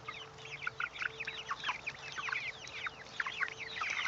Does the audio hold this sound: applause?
no